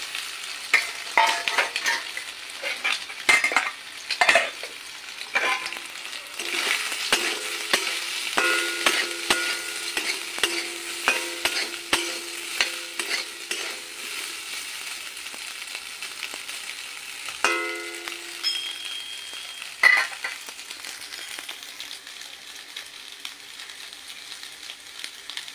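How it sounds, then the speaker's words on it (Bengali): Boiled, drained soybean chunks fry in hot oil, a steady close sizzle with scattered sharp crackles and spatters, broken by occasional scraping stirs, continuing alone without talk. "তো সয়াবিনটা আমি এখন ভেজে নেব"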